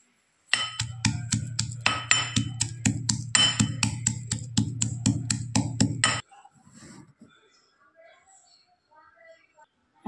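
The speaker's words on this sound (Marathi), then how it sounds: "आता आपण हा खलबत्त्यामध्ये काढून घेऊ आणि बारीक" Garlic crushed in a mortar and pestle produces a fast run of sharp, evenly spaced pounding knocks, close and loud for about six seconds, then stops, leaving faint handling sounds.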